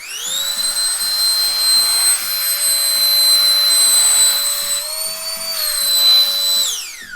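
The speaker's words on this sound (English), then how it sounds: "it is a little bit on the louder side as it is a vacuum. I'm gonna turn it on just for a second so you can hear it." A small rechargeable vacuum pump on a Black Voyaga Zephyr compression travel backpack runs as a loud, steady high-pitched whine for about seven seconds, then winds down as it shuts off.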